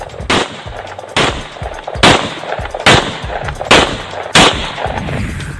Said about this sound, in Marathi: त्यानं बंदुकीतून 30 राऊंड फायर केले